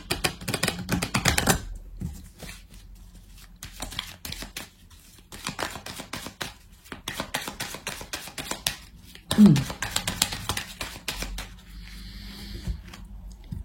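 Oracle cards are shuffled by hand in a series of soft, papery riffling bursts broken by pauses, close by and moderately loud, with a voice speaking at times.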